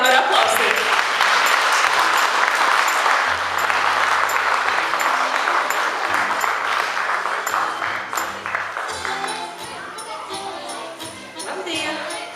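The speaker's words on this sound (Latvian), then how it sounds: "Sagaidām ar aplausiem." An audience claps steadily and fairly close at a preschool children's dance concert, with dense applause sustained throughout and faint voices underneath, thinning slightly toward the end.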